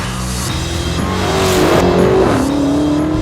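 A Dodge Demon drag-strip car drives past with a loud, steady engine roar and a rising and then dropping engine pitch as it shifts, close and dominant, with no talking.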